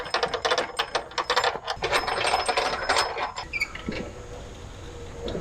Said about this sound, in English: Let's remove all the bolts completely now.